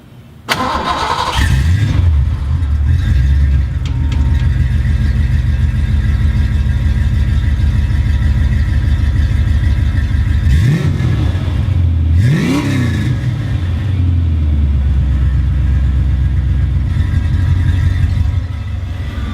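A car engine with a freshly reinstalled exhaust, held with reused mounting hardware, starts up and then runs steadily, with two short revs rising and falling midway before settling back to a loud, continuous idle.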